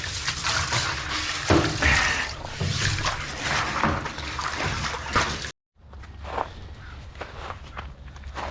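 Water runs and splashes steadily while a brush scrubs a container with dish soap on a farm, with scraping and sloshing throughout and a brief cut to quiet partway through.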